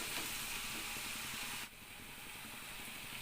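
Fenugreek seeds fry in a pan with a steady hissing sizzle that drops slightly in level partway through, close and continuous with no talking.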